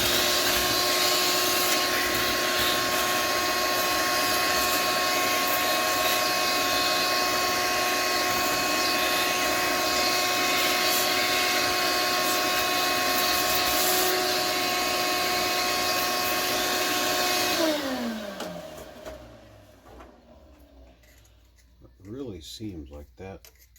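A vacuum cleaner sucks up debris from inside a paper shredder, producing a loud, steady, close roar that winds down after about eighteen seconds, followed by faint handling noises.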